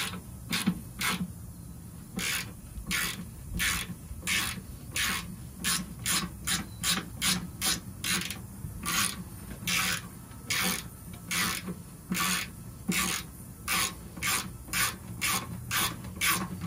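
Ratchet wrench tightening 12 mm bolts on a 2017 Toyota Tundra TRD Pro skid plate, a steady run of close, crisp rasping clicks in quick regular strokes with no talking.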